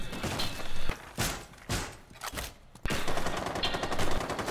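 Rapid gunfire in Rainbow Six Siege, loud bursts of automatic shots and sharp single cracks in quick clusters across a few seconds, close and dense, with no talking.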